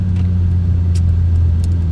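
Mitsubishi Evo X with a louder exhaust idling or cruising, a steady deep engine rumble heard close and continuous with no talking.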